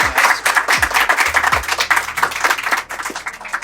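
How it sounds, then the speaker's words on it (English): Audience applause for podcast guests at a live podcasting event, a short burst of clapping from a small crowd, close and fairly loud, with a few sharp individual claps standing out. "I'd love to hear a round of applause for these folks."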